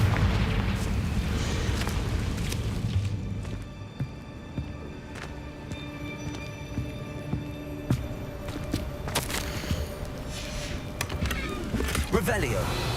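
Confringo blasting spell explosions from the video game Hogwarts Legacy burst out amid layered combat effects and music, sharp impacts and pops recurring over a dense, busy backdrop.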